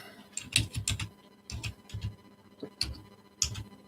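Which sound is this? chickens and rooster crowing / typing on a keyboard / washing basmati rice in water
typing on a keyboard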